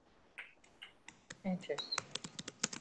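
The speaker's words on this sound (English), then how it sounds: "Somebody is typing away." Someone types on a computer keyboard in a quick, uneven run of soft key clicks that grows denser after the first second, and a voice speaks one brief word at the start.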